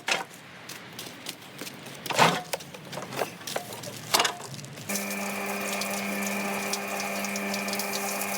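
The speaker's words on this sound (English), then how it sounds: "let's get a mixer set up." Cement mixer starting up in a front garden for bricklaying mortar, preceded by scattered clanks and handling knocks, then a steady loud mechanical hum and rumble of the drum turning alone.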